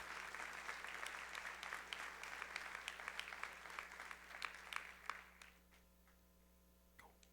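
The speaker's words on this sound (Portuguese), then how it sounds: "enche esse lugar com o teu melhor aplauso" A church congregation applauds during a sermon service, a dense, steady patter of many hands that thins out and fades to scattered claps before silence.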